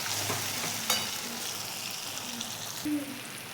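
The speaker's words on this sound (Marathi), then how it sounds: "छान असं आपलं टोमॅटो तेलामध्ये परतलेला आहे।" Tomato and red chutney frying in oil in a pan with methi greens about to go in, giving a steady close sizzle with scraping stirs and a sharp clack of the spoon.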